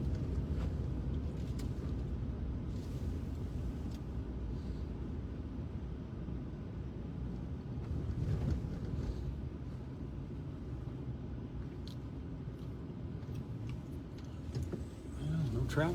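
A car pushes through deep snow on a quiet Indiana road after a snowstorm, a constant low muffled rumble of engine and tyres under light talk inside the cabin.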